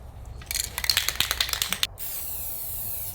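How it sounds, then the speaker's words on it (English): A quick series of sharp rattling clicks gives way to a steady, close hiss of silver metallic Rust-Oleum spray paint leaving the can. "what I have is this silver metallic finish Rust-Oleum spray paint"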